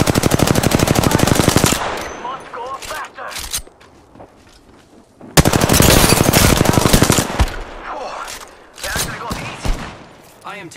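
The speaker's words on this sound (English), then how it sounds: "I am taking fire, friends." Video game combat gunfire: long, loud bursts of rapid automatic fire, a quieter stretch of scattered shots and movement noise, then another sustained burst, with voices speaking now and then.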